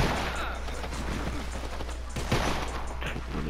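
Gunfire in Red Dead Redemption 2, a dense, continuous fusillade of shots over a steady low hum, with a heavier burst near the end and voices faintly in the mix.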